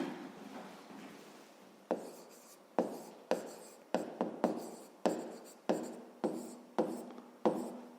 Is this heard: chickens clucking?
no